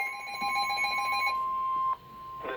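Emergency Alert System attention tones for a severe thunderstorm warning blare as a steady, loud two-tone electronic signal, cutting off near the end before a brief burst of static.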